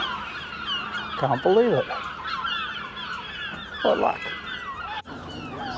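Seagulls call in the alleyways of Newlyn, two loud wavering squawks close by, one early and one later, with someone speaking briefly between them.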